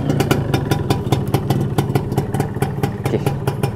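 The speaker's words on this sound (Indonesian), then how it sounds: "Kita try start motor ni." An old Yamaha 125Z two-stroke motorcycle engine runs with a rapid, loud, even rattling beat close by, holding steady throughout without voices.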